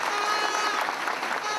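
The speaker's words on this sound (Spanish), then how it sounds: "recibimos con un fuerte aplauso al presidente de Indotel" A crowd at a Dominican political event claps to welcome the president of Indotel, dense applause filling the whole short stretch at steady loudness.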